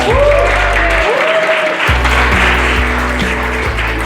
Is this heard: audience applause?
yes